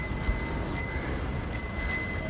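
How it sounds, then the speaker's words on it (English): A new bicycle bell rung by a cyclist in heavy traffic on a mountain pass in India's Spiti Valley: several quick, bright rings in bursts over wind and road noise, with no talking. "Tiff's really enjoying her new bell there."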